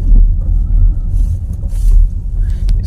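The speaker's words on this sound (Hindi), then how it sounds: "आज फुल तेज आंधी का माहौल है" Strong windstorm outdoors: loud, heavy low rumbling gusts that swell and buffet continuously, close and dominant, with faint hiss above and no clear talk.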